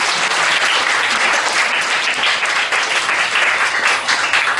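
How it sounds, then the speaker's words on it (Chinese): A concert audience applauds after an Amis band performance, dense, loud clapping from many hands that holds steady for the whole stretch, with no talking over it. "掌声鼓励，谢谢。"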